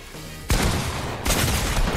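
Gunfire in Fortnite comes as loud, dense volleys of shots, one blast of rapid fire quickly followed by another, close and filling the soundscape.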